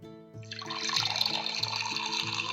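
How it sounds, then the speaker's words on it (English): A liquid potion is poured into a container, a steady splashing trickle that swells after a brief start and runs close and continuous over a faint low rhythmic background tone. "Let's pour some in."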